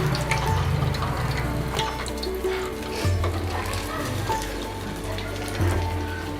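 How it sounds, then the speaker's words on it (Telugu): Bread Maggi rolls frying in hot oil sizzle in a continuous crackling hiss, with background music playing underneath. "నూనె బాగా కాగింది. ఒక్కొక్కటే వేసుకుందాం మనము."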